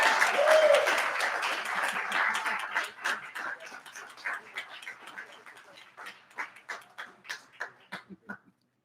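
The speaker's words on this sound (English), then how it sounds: "Let's give one more round of applause." Applause breaks out at an anesthesiology graduation ceremony for a doctor receiving an award, loud and dense at first, then thinning into scattered individual claps that fade out.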